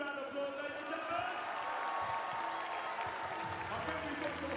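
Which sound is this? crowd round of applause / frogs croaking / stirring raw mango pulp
crowd round of applause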